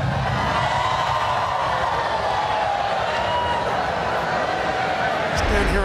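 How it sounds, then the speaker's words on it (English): Stadium crowd at the Stanley doing the wave during a Rainbow Warriors vs BYU game, a dense, sustained roar of cheering that fills the whole space, with a commentator talking over it. "Meanwhile, the crowd here at the Stanley performing the wave."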